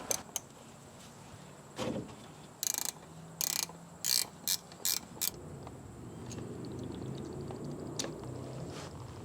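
A ratchet loosens a brake line bolt at the front caliper of a 2012 Ford F150 with the 3.5L engine, where the caliper is seized. A close burst of sharp, rapid clicks comes in short groups against a quiet background.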